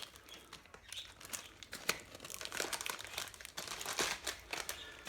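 Packing tape crinkling and tearing close up as it goes onto a package of plants being shipped, a busy run of crackles and rips with faint bird chirps in the background.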